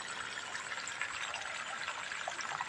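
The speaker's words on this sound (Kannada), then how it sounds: "ಇಲ್ಲೆಲ್ಲ ನೀರು ಬಿಡ್ತಾ ಇದ್ದೀನಲ್ಲ" Water running steadily from a hose or tap onto garden plants and seedlings, a continuous close splashing gush with no talk.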